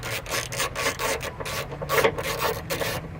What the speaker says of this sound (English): Now pretty much I just use a long 10mm extension. Go ahead and unbolt this bad boy real quick.